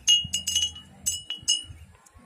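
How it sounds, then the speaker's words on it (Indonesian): Glass bottles hung as a wind-powered pest repeller in a rice field clink against each other in several bright, ringing strikes at uneven intervals, close and clear. "ini yang saya sebut dengan botol kaca pengusir hama yaitu hama tikus dan manuk emprit"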